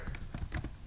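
Quick keyboard typing of a web address into a browser, a short burst of several sharp, close keystrokes with no talking.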